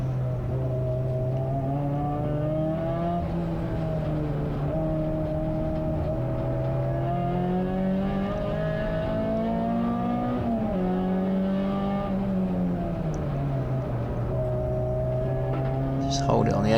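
A race car lapping Anglesey circuit in a CSCC 24-hour race, its engine note heard steadily from onboard as it rises and falls through gear changes over a constant loud drone.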